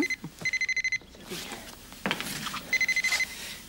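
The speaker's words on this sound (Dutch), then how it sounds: "Telefoon." A telephone rings indoors with repeated rapid electronic trilling bursts, clearly audible, while people speak between the rings.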